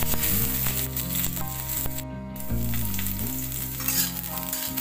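Cauliflower frying in oil in a kadai for aloo gobhi, a loud, steady, close sizzle that runs unbroken, with a low background drone underneath and no voices.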